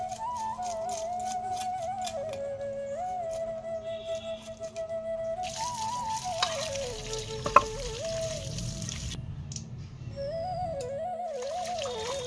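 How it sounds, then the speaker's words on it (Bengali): Onion stalks fry in a pan with a steady, continuous sizzle and crackle, joined by occasional stirring scrapes and clinks, while a whistle-like tone drifts in the background. "পেঁয়াজ কলিটা এদিকে ভাজাও হয়ে গেছে"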